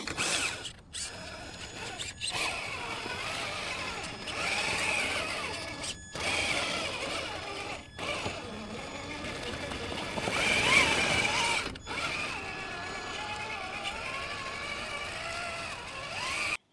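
A Traxxas TRX-4 RC truck with portal axles runs its motor at full throttle, giving a continuous whirring, gear-driven whine with a few short breaks as it drives up and over a ledge.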